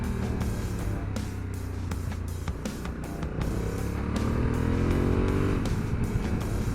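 Honda Africa Twin CRF1100L Adventure Sports DCT motorcycle engine pulling hard on a country road, a steady loud drone that rises in pitch as it accelerates, with wind rush throughout.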